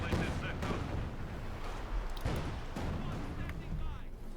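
A Katyusha rocket barrage in Company of Heroes 2 sends out rapid, overlapping booming blasts that land outside a base, a dense rumble of explosions under a caster's running commentary.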